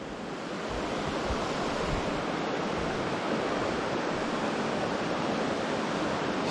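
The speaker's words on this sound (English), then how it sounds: "Looks like another bonus waterfall." A waterfall along Upper Moccasin Creek on a forest hike gives a steady, dense rush of falling water that stays constant and fairly loud throughout.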